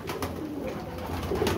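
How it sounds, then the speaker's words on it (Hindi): Pigeons cooing while pecking at grain, a soft continuous burbling coo close by, steady and fairly loud with no talk. "ये कबूतर दाना दोना खा रहे हैं"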